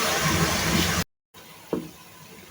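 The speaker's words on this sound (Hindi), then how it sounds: "अब हम इसमें थोड़ा सा पानी शामिल करेंगे" Water splashes into onions frying in a pan for biryani, a loud sizzling hiss that cuts out briefly and returns quieter, with one sharp splash-like burst.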